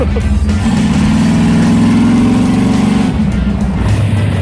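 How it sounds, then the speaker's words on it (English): A rear-engine mini truck drives an autocross pass, its engine droning loud and close with a rising, revving tone and then easing off, while road and wind noise rumble steadily underneath. "There he goes for his very first Autocross pass."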